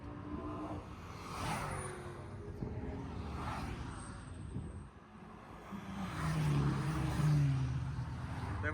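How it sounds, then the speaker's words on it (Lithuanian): Cars racing past on the Nürburgring track, a few loud whooshing pass-bys with engine roar swelling and fading, the last one nearest and loudest. "Tai va tiek mašinų toj trasoj, patys įsivaizduojat. Lekia realiai."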